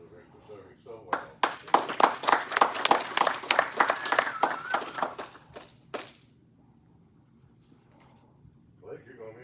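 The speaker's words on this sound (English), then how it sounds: "I'd like to give you another round of applause for the Rick for serving so well" Applause from the audience at a Masonic lodge installation ceremony, a few seconds of fairly sparse, distinct hand claps from a small gathering that fade out, followed by quiet room tone and a voice speaking faintly at the end.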